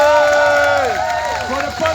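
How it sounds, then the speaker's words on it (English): Crowd at an outdoor community rally applauds and cheers loudly and steadily, with a mix of clapping, voices and a few whistles filling the whole moment. "Big applause"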